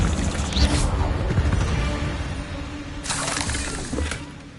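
A fire spell cast in Hogwarts Legacy during combat: loud crackling, smashing bursts over a dense rumbling game mix, with two bright flare-ups about a second apart near the end and no speech.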